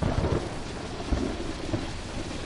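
A thunderstorm sweeps through a Fortnite live event, with heavy rain hissing under low rumbles of thunder and a couple of heavier booms, all close and loud.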